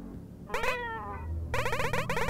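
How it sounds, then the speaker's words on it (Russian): A cat meows twice in the video game Momodora: Reverie Under The Moonlight, first a single drawn-out meow, then a longer, wavering call a moment later, both loud and clear over a low game ambience. "Котярка, привет."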